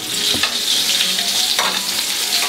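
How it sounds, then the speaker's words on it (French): Fennel browning in a hot pan over lowered heat, a steady bright sizzle filling the whole stretch with a few soft scraping stirs as the pieces are turned. "Les fenouilles commencent à colorer, le feu baisse. Fenouil tourne comme ça."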